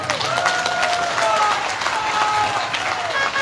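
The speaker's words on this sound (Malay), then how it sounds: "Tepuk tangan." Rally crowd applauding a political speech at Padang Serai, steady broadband clapping from many hands, loud and continuous with faint voices and cheering beneath.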